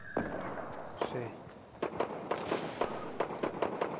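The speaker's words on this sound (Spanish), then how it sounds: "Igual ya se escuchan disparos." Sharp gunshots ring out at intervals in the video game Fortnite, played on an HP Pavilion 15-dk0008la laptop, a series of crisp cracks spread across a few seconds at moderate distance.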